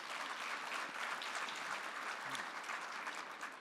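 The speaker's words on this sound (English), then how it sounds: "Give yourselves a round of applause." Sustained audience applause fills a room at an evening tribute honoring farmers, a dense steady wash of many hands clapping at even loudness with no voices on top, continuing unbroken throughout.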